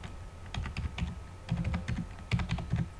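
Quick, light clicks of someone typing a search on a computer keyboard, an irregular run of keystrokes heard close and fairly quiet, with no talking.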